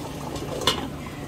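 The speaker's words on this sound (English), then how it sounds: "the rice is starting to boil" Rice simmers in a pot of water on a stovetop, a low bubbling boil with one brief louder splash or lid clink partway through, no speech.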